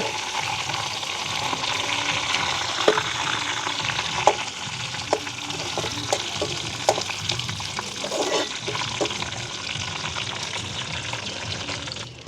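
Curry leaves sizzle and crackle steadily in hot oil, a continuous frying hiss with small pops throughout.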